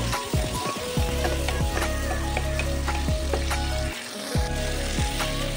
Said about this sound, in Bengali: বিনসটাও একটু ভেজে নিতে হবে।